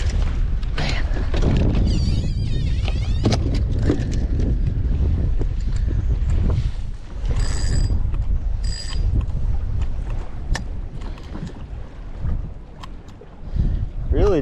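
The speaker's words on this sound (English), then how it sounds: "Just can't do it. It's just too windy." Strong wind buffets a fishing boat out on the water, a heavy low roar of gusts hitting the microphone throughout, with occasional knocks and clunks of gear on the boat.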